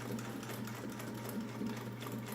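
A Singer 99 sewing machine runs slowly with a small presser foot, giving a steady, close mechanical whir with a soft rhythmic ticking throughout and no talking.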